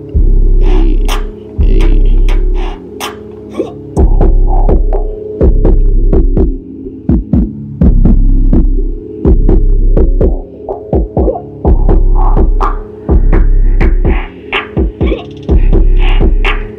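A beat in FL Studio run through the Fruity Love Philter for a muffled underwater, fishbowl effect: heavy, dull low thumps throb in a steady repeating rhythm over a humming bed, with faint clicks above.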